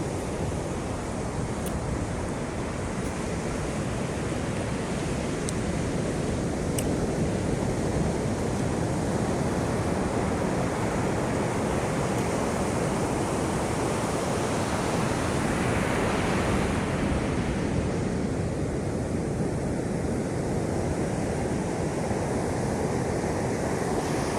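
Sea waves roll onto the shore in a long, continuous broadband roar, loud and steady with slight swells in intensity, wind mixed in and no one speaking.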